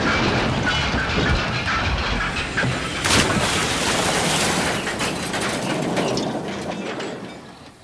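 Thomas the Tank Engine hauls a flour train along the line, a dense, close clatter of wheels and rattling wagons with sharp metallic clanks, fairly loud and steady before easing off at the end.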